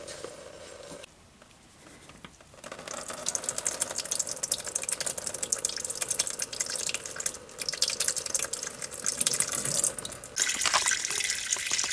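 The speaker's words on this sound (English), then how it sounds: "I got it to where fluid's coming out now, so I'm going to keep that up till we get most of this fluid out of there" Transmission fluid drains from the pan of a 2005 Chrysler Town & Country in a steady, splashing stream like a running tap, rising after a quieter start and continuing throughout with no talk.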